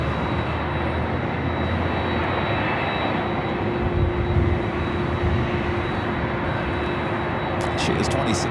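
Boeing 767 jet at LAX, a dense, loud engine roar with a steady tonal hum, persisting throughout alongside someone speaking.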